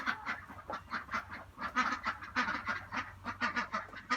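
Ducks and fowl call in rapid, repeated honking quacks, a busy rhythmic chorus nearby with no talking.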